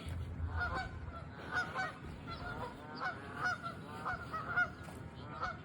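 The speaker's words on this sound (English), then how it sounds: "And the geese are going off." Geese honk repeatedly in a park, a cluster of overlapping calls at middle distance that come in uneven bursts over low outdoor rumble.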